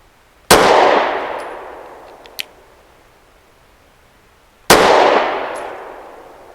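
Two sharp, loud gunshots from a Sig 365 pistol with 365 ammunition ring out about four seconds apart outdoors, each with a long fading echo and a faint metallic clink between them.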